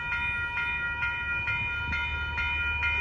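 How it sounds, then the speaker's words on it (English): An Amtrak Capital Corridor passenger train bound for Sacramento rolls past on the tracks at 98th Avenue in Oakland, California, giving a steady, loud rumble with a faint rhythmic clatter and no talking. "Here comes Amtrak. 724 Capital Corridor train going to Sacramento on 98th Avenue."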